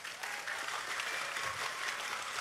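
Audience applause at an Islamic religious gathering, a dense, steady clapping from a large crowd that holds at an even level throughout, with no voices standing out.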